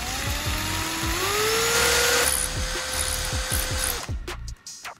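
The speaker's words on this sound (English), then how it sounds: "Next, I need to drill out the inside so that later I can insert the soldering tip into it." A power drill bores out the inside of a spark plug. The motor whines steadily and loudly with a shifting pitch and a rhythmic grinding pulse, then spins down and stops near the end.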